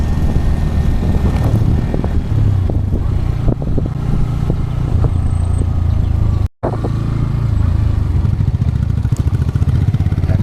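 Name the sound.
motorcycles riding on a rough road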